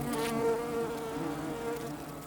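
Insects drone and buzz around sugary sap oozing from a wound on a birch tree, a close, continuous humming swarm with steady wingbeat tones.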